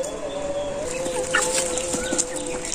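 Village chickens cluck softly and repeatedly nearby, with a few scattered calls and faint wing rustling.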